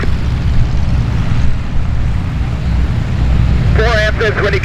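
An airplane takes off from the right side of the runway at the busy Oshkosh EAA AirVenture fly-in. A loud, steady engine roar fills the whole stretch, and a brief radio voice cuts in near the end.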